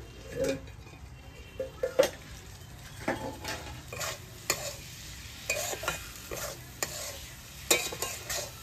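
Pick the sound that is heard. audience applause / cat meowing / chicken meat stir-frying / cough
chicken meat stir-frying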